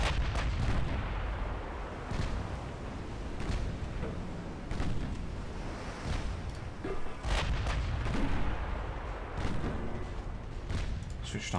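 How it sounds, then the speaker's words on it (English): Naval gunfire in a Japanese dreadnought warship game, with 6-inch guns loosing repeated heavy booms in irregular bursts over a continuous rumble of battle, while a voice talks underneath. "Let's get the 6-inch guns involved."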